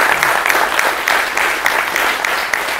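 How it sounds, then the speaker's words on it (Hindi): Audience applause at a political gathering, a dense, steady patter of many hands clapping together, loud and sustained with no voices rising above it. "इसलिए हमें अपने देश के लिए और अपने आप के लिए ताली बजानी चाहिए।"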